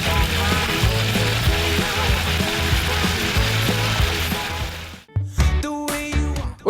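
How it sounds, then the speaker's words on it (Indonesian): Jengkol and petai beans crackle and sizzle steadily in hot oil, close and loud, with a brief pause near the end before the frying resumes. "Terakhir untuk goreng-goreng menggoreng, kita mau goreng ratu dan rajanya nih, yaitu jengkol dan juga pete."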